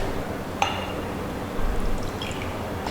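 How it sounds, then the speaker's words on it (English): Distilled water pours into a glass beaker in a lab, a soft, steady trickle with a single bright clink of glass near the start, close and fairly quiet. "Next step is add about 20 to 25 ml of distilled water."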